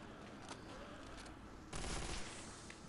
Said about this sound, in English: I'm not a huge fan of either of these heavy machine guns